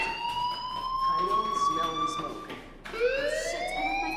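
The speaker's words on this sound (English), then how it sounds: "Hey, do you hear that fire alarm?" A school fire alarm in the game Life is Strange wails as a rising and falling electronic siren, sweeping upward again near the end, steady and fairly loud with room noise beneath.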